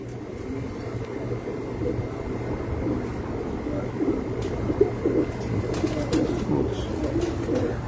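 Pigeons coo on a rooftop loft of racing pigeons, a continuous low burbling chorus close by, with a distant aircraft drone underneath.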